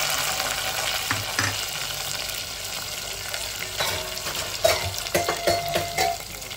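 Small shallots frying in oil in a clay pot crackle and sizzle steadily at close range, joined by irregular scraping and stirring clatter.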